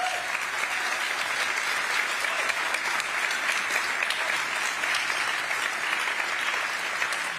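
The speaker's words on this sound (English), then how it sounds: "let's give them a big round of applause" Sustained, dense applause from a large crowd at a tech conference, steady and loud throughout, with scattered whoops and cheers mixed in.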